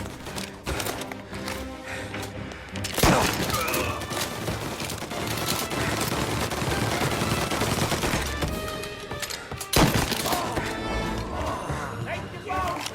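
Gunfire rattles through a Mafia Definitive Edition shootout, with repeated bursts and single cracks scattered across the stretch and two sharper, louder blasts standing out, while someone talks over the shooting.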